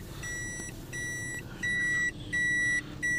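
A Toyota Aqua Hybrid sounds its reverse alert: evenly spaced, sustained electronic beeps, about five in a row, clear and fairly close above a soft, continuous low rumble.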